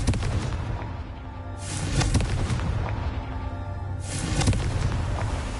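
Two Confringo explosive spell blasts in the video game Hogwarts Legacy, each a loud booming burst about two seconds apart, the second near the four-second mark, over a steady rumbling game background with no talk.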